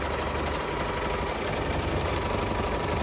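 A 10-needle embroidery machine stitching out a design on a t-shirt, giving a steady, loud mechanical hum and rapid rhythmic needle chatter that runs continuously, close up and with no talking.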